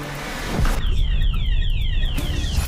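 An alarm goes off in a tense indoor scene, giving a string of repeated falling electronic tones over a low rumbling background.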